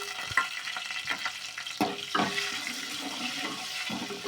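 Cumin seeds dropped into hot oil for a tempering, with garlic and mustard seeds already in the pan: close, crackly sizzling with scattered sharp pops and short hissing bursts over a few seconds, with no talking.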